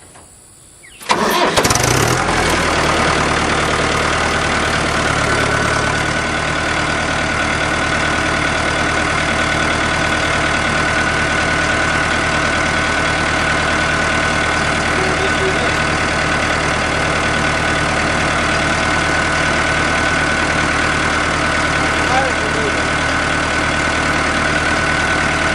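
Mahindra tractor engine with hydrostatic steering cranks briefly, catches and settles into a loud, steady, close diesel idle that runs on evenly with no talking.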